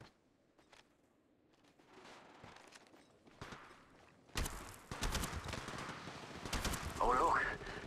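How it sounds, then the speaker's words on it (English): Gunfire in the mobile battle royale game Apex Legends Mobile starts with faint scattered shots, then breaks into loud sustained automatic fire with rapid bursts, with a voice speaking under the action. "Contact. Shooting."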